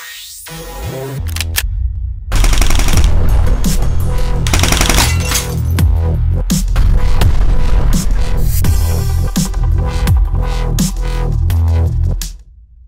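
Airsoft M132 microgun, a Classic Army model, firing in long rapid bursts, a loud dense buzzing rattle after a short quiet start, running for about ten seconds and then stopping.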